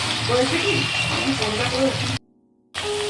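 Tap water running in a home kitchen while prawns are prepared for a jackfruit curry, a steady splashing stream under a voice, cut briefly before resuming.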